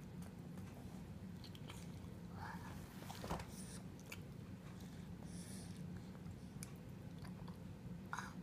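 A young boy chewing food at the dinner table, faint soft mouth sounds over a steady low background hum with no talk.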